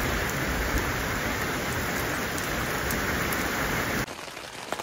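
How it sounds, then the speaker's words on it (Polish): Steady, heavy rain pours down in a dense, continuous hiss, then thins slightly near the end. "U nas nadal niestety pada."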